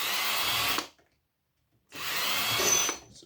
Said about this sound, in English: So just undo these screws.